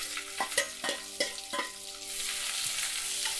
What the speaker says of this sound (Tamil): வெங்காயம் லைட்டாக வதங்க.